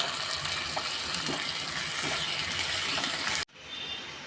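Onions sizzle steadily in hot oil in a pan while tomato is tipped in, with a crackling hiss running throughout. It cuts off abruptly near the end to a quieter background.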